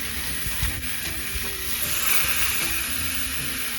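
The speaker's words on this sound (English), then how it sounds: "Set your fillets on at an angle." Fish fillets laid on a hot Weber Q grill with grill grates, sizzling steadily and crisply up close, a constant bright frying hiss with a few soft pops and no talking.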